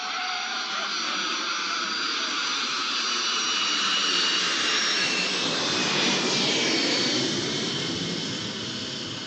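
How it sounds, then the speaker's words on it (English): Roaring jet aircraft engine used as a sound effect in an old-time radio drama, a loud, continuous, broadband rush that swells slightly midway and then eases, with no voices over it. "can't you fly this jet any faster?"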